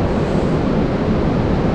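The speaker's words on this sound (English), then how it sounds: "Wind started to pick up" Wind gusts across an ocean shore on a cold day of fishing for white steenbras, a loud, continuous low rumbling roar buffeting the microphone, with a washing surf-like texture throughout.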